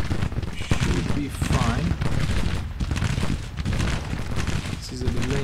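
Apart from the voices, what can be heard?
gunfire from several units firing, Grand Tactician Civil War video game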